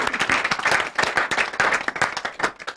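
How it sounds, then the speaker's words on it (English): A small group claps for a woman, with distinct, uneven hand claps in a lively rhythm close by, sustained without a break. "we could clap for her."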